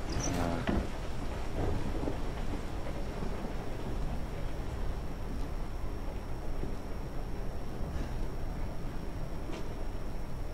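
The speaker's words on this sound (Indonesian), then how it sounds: "Suara hujan di sebelah kiri" Steady rain hisses throughout Resident Evil 7 game audio with a low rumble of thunder underneath, a dense, even wash of sound with a few faint knocks near the start.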